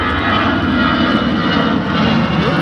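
An airliner on the Alicante flight roars steadily past at Liverpool John Lennon Airport, a loud, continuous jet engine rumble filling the whole stretch with no talking over it.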